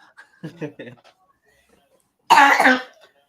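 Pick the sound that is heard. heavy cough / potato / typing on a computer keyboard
heavy cough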